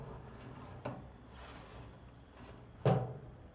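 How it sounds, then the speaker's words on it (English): An oven door opened and a tray of cookies slid inside, two distinct knocking thuds of the door and tray against the quiet hum of a kitchen, the second louder and closer. "We are going to open the door and slide in our cookies slowly."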